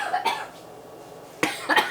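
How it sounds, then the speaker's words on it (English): A woman coughs in a kitchen while making homemade paleo mayonnaise: one cough near the start, then a louder double cough burst near the end, close and alone without speech. "Oh yeah, I coughed all over that."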